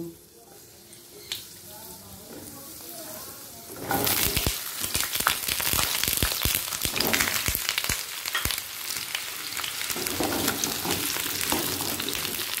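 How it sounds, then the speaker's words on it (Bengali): Potato and pointed gourd pieces dropped together into hot oil burst into a loud, crackling sizzle after a few quiet seconds, then keep frying steadily with sharp pops and spatters close by. "ওই একই তেলের মধ্যে আমি আলু আর পটলটা একই সাথে ভেজে নেব।"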